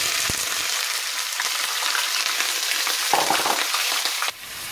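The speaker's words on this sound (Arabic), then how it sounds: "غنخلي الزيت سخن. من بعد غادي نرمي عليها البصله والبوارو. اول حاجه غادي نضيف البوارو حيت عندي ديال المجمد" Frozen leeks fry in hot oil in a pan while cooking rice with oven-roasted chicken, making a loud, steady sizzle with occasional stirring scrapes that drops away abruptly near the end.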